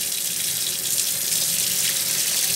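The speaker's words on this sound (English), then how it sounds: "Pour the water over the pasta." Water from a sink tap runs steadily over cooked pasta in a pan, a loud, continuous hissing rush close by with no break.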